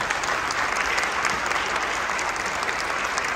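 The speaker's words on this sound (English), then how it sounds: "We'll give her another round of applause." Sustained applause for a student teacher, dense and steady throughout, a crowd clapping together at an even level.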